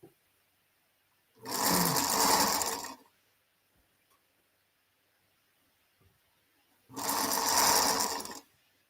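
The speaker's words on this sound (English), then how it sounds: "Now you're sewing a pie carrier." A sewing machine stitches a fabric pie carrier in two separate bursts of fast, close, loud whirring, each about a second and a half long, with quiet pauses between them and no talk.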